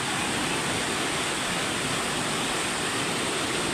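Floodwater rushes under a bridge as a dense, unbroken roar of churning water, loud and steady throughout with no voices.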